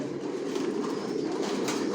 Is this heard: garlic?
no